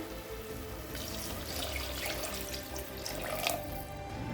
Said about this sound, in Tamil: அடுத்தது தண்ணி சேர்த்துக்கலாம்